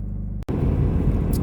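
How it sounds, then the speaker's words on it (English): A large truck used for a CDL road test idles close by, a steady low engine rumble that drops out briefly before resuming. "That's the truck I'll be taking my road test in."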